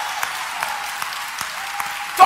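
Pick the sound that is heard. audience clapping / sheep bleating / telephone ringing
audience clapping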